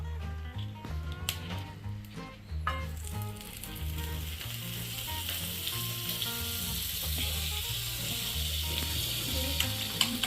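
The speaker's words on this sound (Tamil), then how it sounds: "இப்போ நம்ம அதில் வந்து பட்டர் போட்டுற வேண்டியது தான்" Butter melts and sizzles on a preheated dosa pan while making a cheese and egg sandwich. A steady, bright frying hiss runs throughout beneath rhythmic background music.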